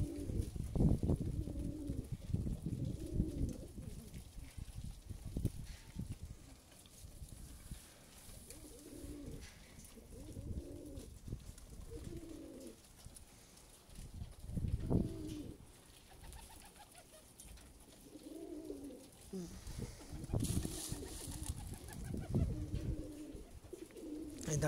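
Pigeons coo repeatedly on a rooftop, a steady run of soft, throaty calls that rise and fall in overlapping bursts, with faint background noise throughout.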